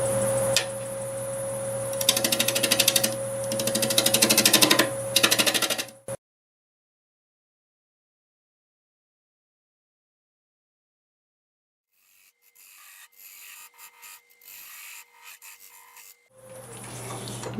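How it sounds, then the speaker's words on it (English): Apple wood block turned into a tenon on a lathe at about 740 RPM with a half-inch bowl gouge: close, harsh scraping and rubbing for six seconds, then silence, then lighter cutting sounds resuming near the end. "I'll go ahead and turn this block into a tenon now"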